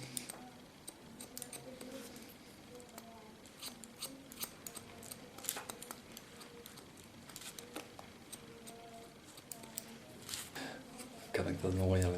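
Scissors snipping hair while cutting the baseline of a V-bob haircut, a series of small crisp clicks and snips at close range, with someone talking throughout.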